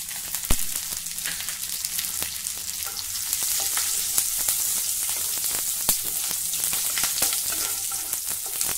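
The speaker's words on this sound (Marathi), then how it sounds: "हे तूप गरम झालं की त्यामध्ये चिमूटभर जिरं घालूया." Cumin seeds and chilies fry in hot ghee in a pan, producing a steady, close sizzle with scattered sharp pops and stirring scrapes that grow slightly louder partway through, with no speech.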